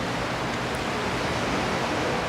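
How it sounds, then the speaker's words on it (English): Surf rolling onto a beach, heard as a dense, even hiss and rumble of waves that stays constant and close for the whole moment. "As I'm walking, I can hear the sounds of the waves."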